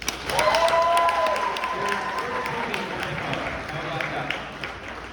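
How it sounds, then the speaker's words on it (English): An audience at a post-screening film Q&A gives another round of applause, a dense steady clapping that gradually thins, with some cheering and a voice over it early on. "can we just give her another round of applause?"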